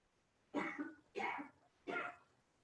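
Three short, sharp coughs in a row, evenly spaced and close, with near silence between them.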